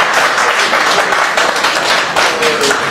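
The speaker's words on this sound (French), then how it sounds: "Est-ce qu'on peut l'applaudir très fort?" An audience at a Paris album presentation applauds a studio founder, a dense, steady wash of clapping filling the short stretch without a break.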